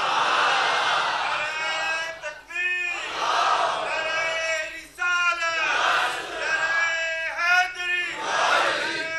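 A large religious gathering chants slogans in unison during a sermon, the crowd's voices swelling in repeated loud rhythmic bursts that rise and fall across the whole stretch.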